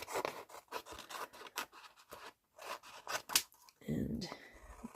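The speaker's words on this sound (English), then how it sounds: "I'm just going to come in with my scissors" Crisp snipping and rasping of scissors trimming around the edges of paper for a junk journal pocket tag, a run of short cuts with brief pauses, close by, with a voice talking near the end.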